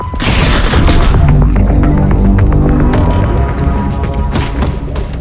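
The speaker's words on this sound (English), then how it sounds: "We needed to familiarize the player with the Strider's Gauss cannon firing sequence" The Strider's Gauss cannon in Half-Life: Alyx fires with a loud, heavy boom and thudding impacts, then crackling, rumbling debris and sharp later bursts.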